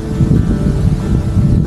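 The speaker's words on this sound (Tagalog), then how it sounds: "Yung lakas ng hangin." Strong wind buffeting the microphone during an uphill bicycle ride, a steady low rumbling roar with gusty fluctuations throughout.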